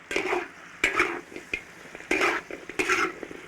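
Browned oxtail is stir-fried with scallion, ginger and garlic in an iron wok: loud, close sizzling broken by repeated spatula scrapes and clanks against the metal in an uneven rhythm.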